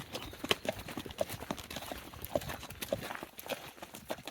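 Several horses trot around a stable field, their hooves clip-clopping in quick, uneven rhythm, fairly faint and close by, with no talk over it.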